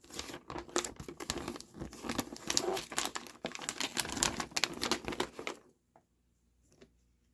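A paper fold-out product catalog for a KWC airsoft pistol is handled up close, giving a continuous loud crinkling and rustling that stops abruptly near the end, leaving quiet.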